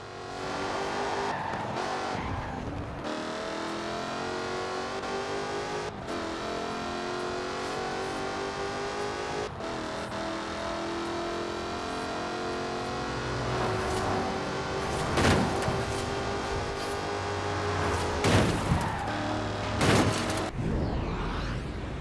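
A Jaguar Project 7 sports car races in Forza Horizon 4 with a continuous loud engine roar that rises and falls through gear changes, and occasional sharp bursts and tire squeals toward the end.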